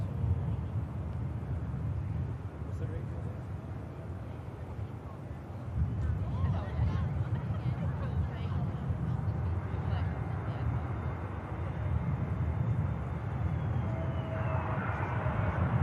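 An Airbus A320neo, six years old, touches down at Manchester Airport in a breeze: a steady, loud, broad jet roar fills the whole span with a low rumble, swelling slightly midway, while a voice talks over it.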